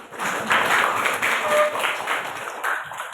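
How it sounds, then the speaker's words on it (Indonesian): A classroom of students claps together during a lesson on future careers, a fairly loud and dense patter of many hands that carries on evenly throughout. "Oke, boleh tepuk tangan dulu semuanya"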